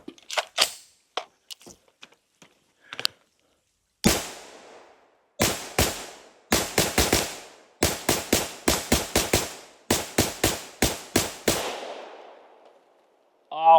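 A 300 Blackout rifle firing a string of sharp, loud shots, first a few spaced reports and then rapid bursts of closely grouped cracks, each with a short decaying echo.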